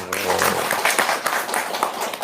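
Audience applause at a talk on clearing billion-rupiah debts, a dense, steady wash of many hands clapping that fills the whole stretch, with a brief voice at the start.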